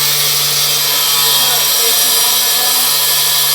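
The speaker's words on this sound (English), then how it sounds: "Starts with a grinder and a little bit of courage." An angle grinder cuts metal on a drift BMW, a loud continuous high-pitched whir with a steady tone and harsh hiss, close up with no talking.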